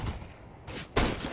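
Gunfire crackles in a Counter-Strike style esports match, with a dense burst of loud shots followed by a second sharp volley, close and harsh.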